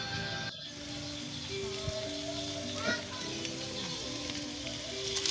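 Coconut milk mixture for susong pilipit stirred in a pan, a soft bubbling sizzle with occasional spoon scrapes, under quiet talk and children's voices in the background.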